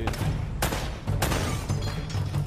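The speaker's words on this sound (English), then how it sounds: "And that was an explosion." Bursts of gunfire and blasts from the Uncharted: Drake's Fortune video game crack out close and loud, several sharp shots in quick succession over a dense, rumbling backdrop.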